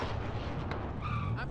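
A car driven in Call of Duty Warzone rumbles with low engine drone and tire noise, close and continuous, with brief tonal radio-style chirps layered on top.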